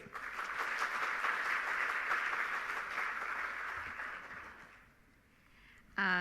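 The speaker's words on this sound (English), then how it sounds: "Please give her a big round of applause." Audience applause at a regional trade and development forum, steady and full for several seconds, fading out before a voice begins at the end.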